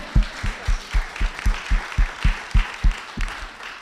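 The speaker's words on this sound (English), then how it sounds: "yeah, I'll clap hands to that." Hand claps from a person at an agricultural cooperative gathering, about a dozen sharp, evenly spaced claps in a steady rhythm, fairly close and clear, with faint background murmur.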